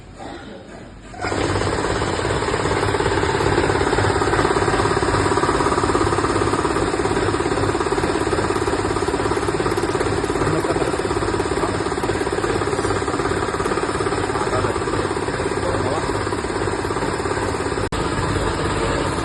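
An air compressor starts up and runs, a loud, steady mechanical drone with a rapid rattling pulse that holds unchanged for nearly twenty seconds after switching on.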